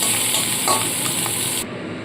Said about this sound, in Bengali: হালকা করে ভাজবো তো হালকা করে ভেজে নিয়েছি এবার পেঁয়াজ কুলিগুলোকেও আমি তুলে রাখবো